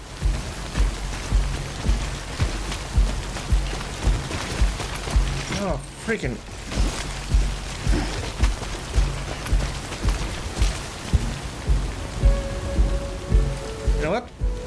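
Rain falls steadily in the video game Death Stranding, a constant patter layered with rhythmic mechanical clicking and footstep-like thumps, while a man mutters briefly over it.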